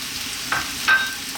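Potatoes and carrots land in a hot pan for a vegetable stew and fry with a soft, steady sizzle, broken by a couple of brief louder stirring rustles.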